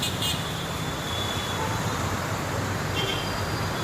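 Continuous roadway noise with vehicles rolling past nearby, a steady broadband hum and occasional higher whines as cars go by.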